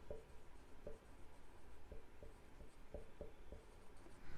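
A pen writing on paper in an accounting exercise, with soft scratchy strokes in a quick irregular rhythm. The taps and scrapes are quiet and close, with no voice over them.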